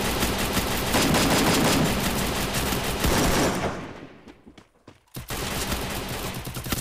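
Sustained rapid gunfire from a shield gun in Free Fire MAX, a loud dense burst that fades briefly, then a few single shots before firing resumes at full strength.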